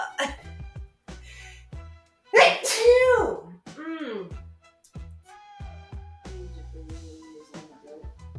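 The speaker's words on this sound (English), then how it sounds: "I had to sneeze." A single loud sneeze bursts out partway through, close and sharp, surrounded by quiet speech and light handling noises.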